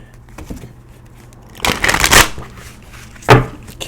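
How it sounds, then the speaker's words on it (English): Tarot cards shuffled loudly in bursts: a few faint riffles early, then a long loud rustling shuffle and a short sharp riffle near the end, heard alone and close. "Sorry for the loud shuffle."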